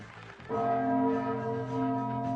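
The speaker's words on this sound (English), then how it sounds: "Now it's chime time." A bell chime rings out, striking once and holding a loud, sustained tone with clear overtones that hangs on to the end of the short excerpt.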